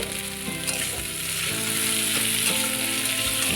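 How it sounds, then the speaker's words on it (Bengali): Potato and radish stir-frying with green chili and turmeric in a pan give a loud, continuous close sizzle, broken now and then by the soft clunk of a stirring spoon. No voices. "কাঁচা লঙ্কা একসঙ্গে দিয়ে ভালো করে নেড়ে নেবো"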